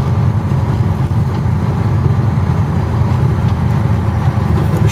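Vehicle engine droning steadily while driving on the Tbilisi ring road, a loud continuous low rumble with road noise throughout and no talking.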